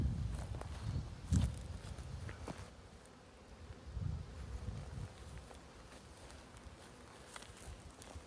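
A honeybee swarm being rehived into a box hums with a faint, steady buzz, broken by a few low rustles and thumps close by.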